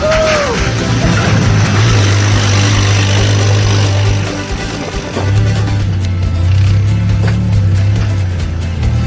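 A flathead car engine idling with a low, steady, grumbling rumble close by, dipping briefly midway before settling back to its even chug.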